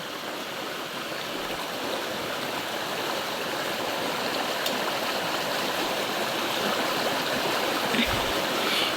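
A clean creek flows steadily, a continuous broadband rush of water close by and even in level for the whole stretch, with no voices over it.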